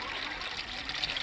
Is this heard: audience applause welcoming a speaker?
no